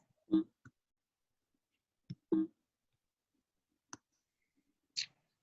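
Mouse clicks during photo editing work: a handful of sharp, isolated clicks spaced irregularly over several seconds, close and fairly quiet, with silence between them.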